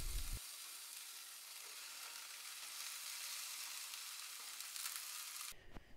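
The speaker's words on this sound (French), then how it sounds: "Une fois la poêle chaude, y ajoutez les oignons et les poivrons à feu doux." Onions and peppers frying in olive oil over low heat in a hot pan, with mushrooms to follow, giving a steady, close, even sizzle that runs on with no talk and cuts off just before the end.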